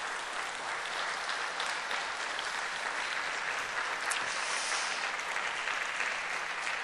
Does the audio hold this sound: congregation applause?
yes